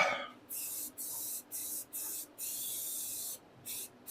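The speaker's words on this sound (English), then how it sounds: "I'll shoot this out with the rust reformer" Rust reformer sprays from an aerosol can onto a rusty part of a 1970 Dodge Challenger in a series of short hissing bursts. A longer burst runs in the middle, and the can is held close without any voices.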